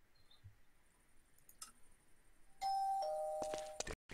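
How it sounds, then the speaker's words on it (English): A doorbell rings with a clear two-tone ding-dong chime inside the video game Magicraft. It is fairly quiet and brief and comes after a few faint clicks, with no one talking over it. "Oh, right, we have doorbell."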